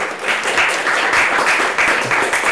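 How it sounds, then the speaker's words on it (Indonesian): A studio audience at a televised legal talk show in South Sumatra breaks into steady, dense applause that holds at an even loudness for the whole stretch, with no voices on top. "boleh kita berikan tepuk tangan lebih dahulu dong"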